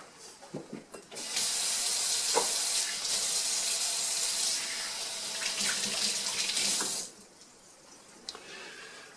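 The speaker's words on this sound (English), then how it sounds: "let me wash my hands" A kitchen tap runs steadily for about six seconds as hands are washed under the water. A few light clatters come just before it, and it stops abruptly into a quiet room.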